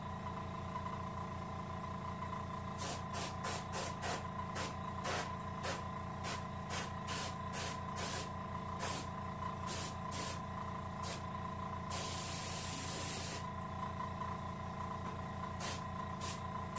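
Spray painting pins for rainbow trout taxidermy, a series of short, sharp aerosol bursts in an uneven rhythm, with one longer hiss partway through, over a steady low background hum.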